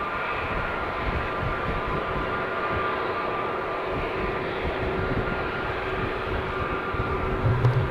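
Two-year-old Airbus A320neo departing Amsterdam Schiphol for Valencia, a sustained broad jet engine roar at moderate distance, steady and alone with a slight swell at the end.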